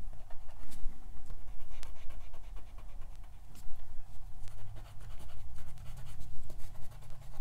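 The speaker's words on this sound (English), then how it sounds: "I'm doing a little erasing" An eraser rubs pencil lines on watercolor paper in quick, repeated back-and-forth strokes, a close scratchy brushing that comes in bursts with brief pauses, over a low steady background hum.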